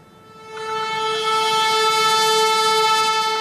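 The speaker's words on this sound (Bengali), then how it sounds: "ছুটে আসছে ট্রেন" A train approaching on a Bangladesh railway line sounds a loud, sustained horn blast that begins after a brief quiet moment and holds steady and close until the end.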